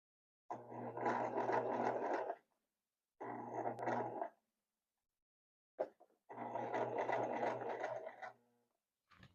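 A home sewing machine stitching through bulky denim runs in three bursts of steady, labored whirring and thumping, each a couple of seconds long, separated by short pauses.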